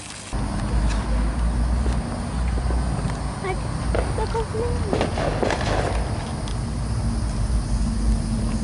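Fourth of July fireworks in 2020 crackle and pop steadily over a loud, dense background of noise, with people talking throughout.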